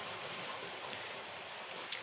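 Light drizzle falls outside, a faint, even hiss of fine rain with no distinct drops or other sounds standing out.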